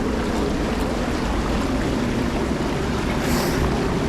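Water rushes through a breached bank of the Bridgewater canal, a loud continuous churning roar with wind buffeting the microphone and no pause or talk.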